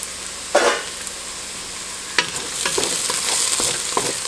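Chopped vegetables sizzle in a pot for chicken soup, close and steady, with a few sharp scraping stirs and clatters breaking through and the frying swelling toward the end, no voices.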